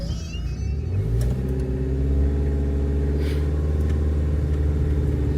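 A Renault camper van's engine rumbles close by during a hill start, revving up with a rising drone and then holding a steady, loud, low hum.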